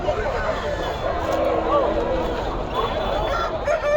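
At a busy poultry market, an aseel rooster of about 4 kilograms calls amid a dense wash of crowd noise and other fowl. Someone talks steadily over the bustle.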